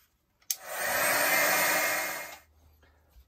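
A hair dryer blows steadily on an ink background in an art journal, switching on abruptly, holding a loud even whoosh for about two seconds, then cutting off into quiet.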